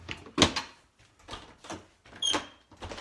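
A speakeasy-style door is opened and closed, producing several loud, close wooden knocks and rattling thuds in an uneven rhythm, with short quiet gaps and a faint squeak between them.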